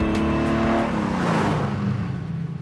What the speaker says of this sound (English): I'm driving a 1950s Formula One car.